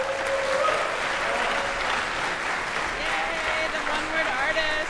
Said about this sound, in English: Big round of applause for our second to last storyteller, Saloni.